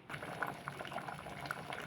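Lentils with tamarind pulp bubble steadily at a low simmer in a pot on a stove, with soft pops and gurgles and no voices.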